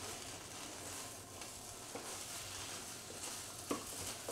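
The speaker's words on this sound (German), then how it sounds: "einfach immer ein bisschen umrühren" Kaiserschmarrn is stirred and broken up in a hot frying pan, giving a steady soft sizzle with faint scraping clicks and a couple of sharper taps near the end, heard alone without talk.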